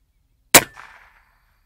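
A single sharp crack from an airgun firing at long range, loud and close, followed by a brief fading metallic ring, with no voices.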